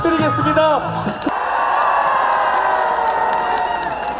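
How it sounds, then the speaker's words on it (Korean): A large political rally crowd in Suncheon, South Korea cheers and applauds loudly after a voice speaking over amplified sound, the roar of the audience sustained throughout. "함께 뜨거운 환호의 박수 부탁드리겠습니다"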